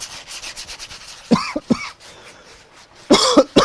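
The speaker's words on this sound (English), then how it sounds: "that cough right there, that was a reaction to liquid" Two short bursts of coughing, a pair of harsh barks followed by a second pair, close by with quiet rustling between.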